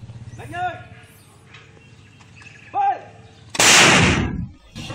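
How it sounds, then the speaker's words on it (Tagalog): A single heavy cannon blast booms out, loud and sharp, with a rumbling tail, during a clash between soldiers and MILF members in Maguindanao del Sur; earlier, faint bird calls sound over a quiet outdoor backdrop. "Napilitang gumamit ng kanyon ang mga sundalo"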